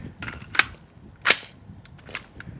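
Rifle shots fired during a SWAT/SRT firearms qualification, three sharp cracks at uneven intervals, the middle one loudest, ringing over a quiet outdoor range.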